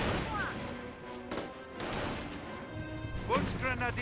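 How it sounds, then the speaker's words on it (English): Scattered rifle shots and a dull grenade blast in a Company of Heroes World War II battle, Wehrmacht against US forces, heard at low level beneath a commentator's steady talk. "Another grenade thrown there."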